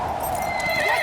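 Horses whinny loudly over the steady clip-clop of hooves, a short, close and busy burst of animal sound.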